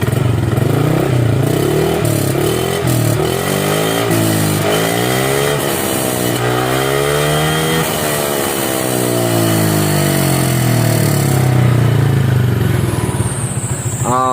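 Honda Vario 125 scooter with a modified, bored-out exhaust revs loud and close, its pitch sweeping up and down through repeated throttle blips over about fourteen seconds.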